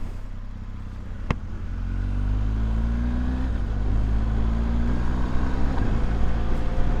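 A motorcycle rides along Bainskloof Pass near Cape Town, its engine droning steadily and rising in pitch as it accelerates, with rushing wind noise building over the run.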